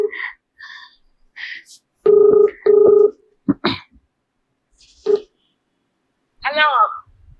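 A telephone rings on a call, with two long, even buzzing tones in a row and voices speaking before and after.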